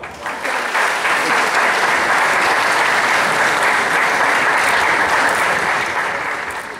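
Sustained, loud audience applause at the final of a regional beauty pageant, a dense roar of many clapping hands that swells quickly, holds steady for several seconds and then begins to ease off.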